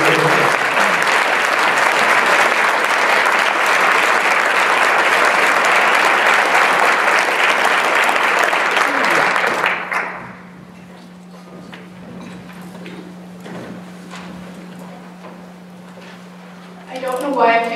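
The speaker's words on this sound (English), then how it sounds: "Let's give this special group a round of applause for their generosity." A luncheon audience applauds a group of givers at a recognition event, loud full-room clapping for about ten seconds that stops abruptly, then quieter room tone with a low hum and a brief burst of clapping at the end.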